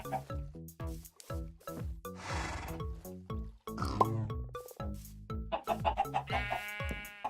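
Minecraft chickens cluck over and over beside a small coop on a farm, close and fairly loud. Other farm animal grunts, like a pig's oinks, are mixed in with the clucking.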